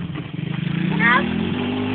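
A homemade go-kart engine runs steadily with a rough, buzzing drone, rising slightly midway as if revved, heard close and fairly loud under people talking.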